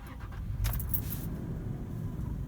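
A 2018 Toyota 4Runner TRD Off-Road fires up with a key: a short burst as the engine catches, then a steady, close, low idling rumble that carries on, with faint key jingling near the start.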